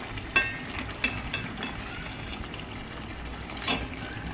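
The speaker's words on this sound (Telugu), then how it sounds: "ఇలా గుడ్లన్నీ ఇలా తిప్పేసుకోవాలండి" A spoon scrapes and clinks a few times as eggs are turned in an egg curry simmering in a pan with water, soft sizzling underneath, fairly quiet with three sharper knocks.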